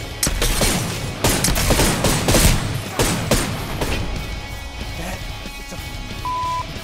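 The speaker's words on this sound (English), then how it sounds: "Pistol, bro. It's a pistol." Pistol shots ring out in a video game firefight, a series of sharp, loud cracks fired in an uneven rhythm, trailed by a lingering tonal beep.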